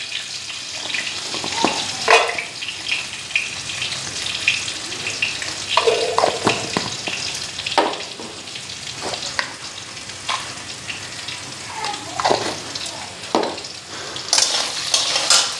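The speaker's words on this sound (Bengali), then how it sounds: "আলুটা ফ্রাই কইরা মশলাটা দিব।" Potatoes frying in a pan, with steady crackling sizzle and intermittent stirring scrapes and clinks, close and fairly loud, with no talking.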